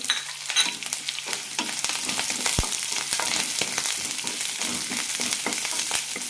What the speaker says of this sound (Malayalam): കൂടെ തന്നെ സവാള അരിഞ്ഞത്, പച്ചമുളക്, കറിവേപ്പില നന്നായി വഴറ്റാം.